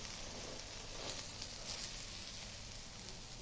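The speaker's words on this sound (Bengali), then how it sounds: "সবাই ভাজে কড়াইয়ে, আমরা ভাজি তাওয়ায়।" Village eggs fry on a flat tawa griddle with a steady, soft crackling sizzle that holds even throughout, close but faint, with no voices.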